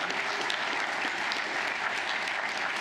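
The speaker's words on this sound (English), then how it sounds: "let's give Chris and Randy a huge round of applause." Audience applause for two speakers at a food entrepreneurship series event, a steady, dense clapping from a large crowd that holds even and loud for about three seconds with no talk over it.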